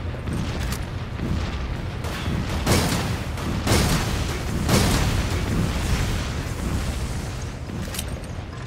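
Loud, dense gunfire on a ship deck in Resident Evil 5, with heavy booming bursts that rise and fall over a constant roar of battle noise, with no talking.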